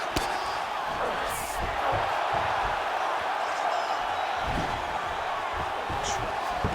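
Virtual fight-night spectators in the UFC 5 game cheer and whoop as a mixed martial arts bout continues, a steady mid-level crowd roar with scattered shouts and a few thuds underneath.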